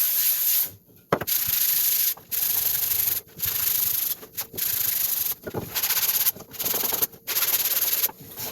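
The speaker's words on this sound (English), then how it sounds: "So now we need to sand these a little bit." Wooden pieces being sanded by hand, a steady close rasping scrub in repeated strokes broken by short pauses between passes, with no talking.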